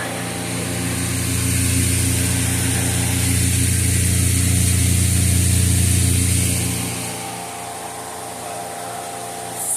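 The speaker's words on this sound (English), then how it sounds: "This fan is really nice. It has a horsepower motor." A Dayton exhaust fan with a one-horsepower motor runs in a high school art back room, giving a loud, steady broadband roar with a low hum that rises in the first seconds, holds, then drops off sharply near the end.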